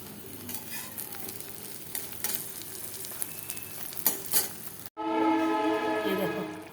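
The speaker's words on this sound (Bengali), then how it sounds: "পাবদা মাছটা ভাজা হচ্ছে।" Pabda fish fries in oil with a steady, close sizzle and crackle, then the sound cuts abruptly to a loud, sustained tonal horn-like drone.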